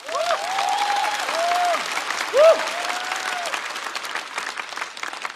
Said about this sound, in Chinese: 再次掌声送给呼兰。